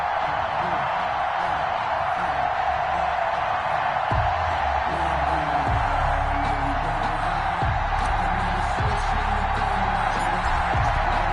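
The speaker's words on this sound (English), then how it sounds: "This crowd is ready as their guys get set to match up between the New Orleans Saints and the Carolina Panthers." Crowd noise at an NFL stadium in the video game Madden 21, ahead of a New Orleans Saints versus Carolina Panthers matchup in uptown Charlotte. A steady, dense roar of cheering fills the scene, with low thumps underneath and a commentator talking over it.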